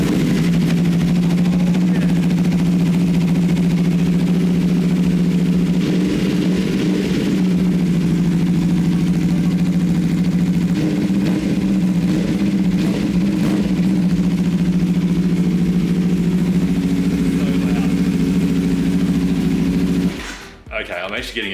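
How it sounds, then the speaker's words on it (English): A wrecked 2017 superbike with an AR Racing exhaust idles with a steady, deep, loud rumble heard up close for a long stretch, then cuts off abruptly near the end. "Like that AR Racing exhaust sounds awesome."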